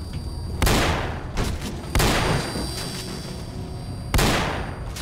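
Gunfire aimed at a poltergeist in STALKER: Call of Pripyat: three loud, sharp shots with long reverberant tails, spaced irregularly over a few seconds, and no voices.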